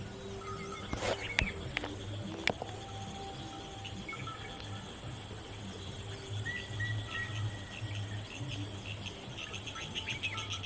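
Dense forest ambience with steady insect chirring and scattered bird calls, a few sharp knocks early on, a busy continuous outdoor chorus with no talking.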